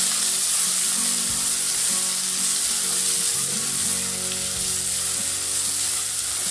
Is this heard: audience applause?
no